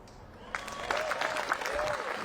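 A crowd applauds at a women's final round of the 2025 PDGA Pro World Championships disc golf event, the clapping starting abruptly and continuing steadily, with a commentator's voice faintly underneath.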